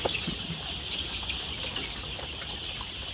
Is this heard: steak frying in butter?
no